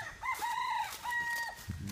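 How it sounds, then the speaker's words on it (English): Pheasants on a farm give a couple of loud, close, harsh crowing calls, each a strained rising-then-falling squawk, followed by a brief low cluck. "Pheasants."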